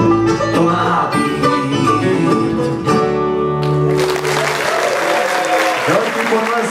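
Audience at a banjo concert breaks into loud applause and clapping, swelling over the last notes of live music, with a voice speaking over the start of it.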